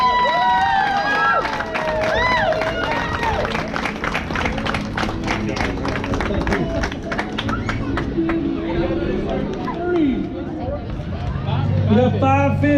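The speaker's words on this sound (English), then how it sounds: "give Mr. Jesse Williams a round of applause for everything he has done." A crowd claps and cheers at a first annual bass fishing tournament, with whoops and shouts rising over sustained applause and voices chattering throughout at an outdoor weigh-in.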